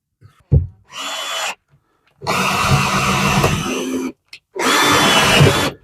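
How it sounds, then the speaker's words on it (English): A power drill drives self-tapping screws into wall boards inside a camper conversion, with three loud whirring bursts separated by brief pauses and a small knock near the start. "these self-tapping screws are a bit annoying because sometimes they don't go in first time, so you've got to kind of reverse and then go back in"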